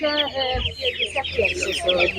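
Poultry at an animal market, with ducks for sale among them, give a quick run of loud, close clucks and squawks, with market bustle mixed in.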